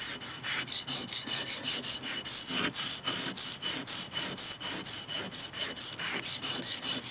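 Knife blade stroked back and forth on a cheap sharpening stone, about two dozen close, rhythmic scraping rasps in quick steady succession.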